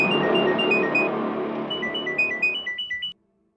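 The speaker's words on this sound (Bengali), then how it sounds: "গ্যাং থেকে ফোন আসবে অভিজিতের কাছে, আসবে ফোন।" A phone ringtone plays as a bright electronic melody of quick repeating beeps, clear and close, then stops abruptly after about three seconds, leaving silence.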